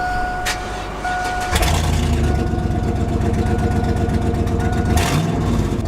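A GMC Yukon's engine idles steadily just after starting, loud and close with a constant low rumble, after a brief rise as it catches.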